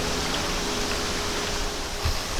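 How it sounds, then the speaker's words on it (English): Steady broadband rumble of island breeze buffeting a microphone outdoors among Monstera deliciosa plants, constant and noisy throughout with a low gust near the end. "Sorry for the noise. Boy, we have a nice island breeze today."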